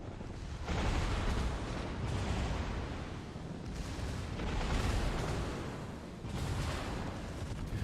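Warship guns fire in a naval combat game, heavy booming blasts arriving in several broad bursts over a continuous rumbling roar, loud and without voices.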